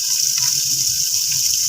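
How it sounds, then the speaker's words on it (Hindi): Water from a glass is poured into a pot of potatoes, peas and carrots for a mixed vegetable pulao, giving a steady close splashing hiss with a faint low bubbling underneath. "इसके अंदर मैं तकरीबन 1 गिलास पानी डाल के इन सब्जियों को अच्छे तरीके से गला लूँगी"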